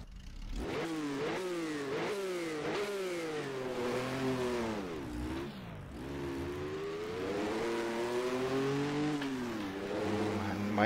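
A Ferrari Dino's engine in a racing game on the Targa Florio course, revving up through the gears again and again with short dips at each shift, loud and close.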